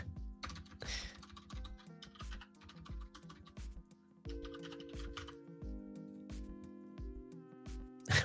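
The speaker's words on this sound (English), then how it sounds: "Now it won't let me type in the password." Quiet, close typing on a computer keyboard, with irregular bursts of clicking keystrokes over a steady low hum.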